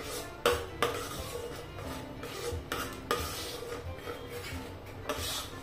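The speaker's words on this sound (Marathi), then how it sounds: "चांगला 2 ते 3 मिनिटांसाठी परतून घ्यायचंय. थोडं मिडियम गॅसवर करायचंय" Spices sautéed and stirred in a pan over medium gas heat, with repeated scraping and clattering strokes of a spoon against the pan over a soft background sizzle, and no talking.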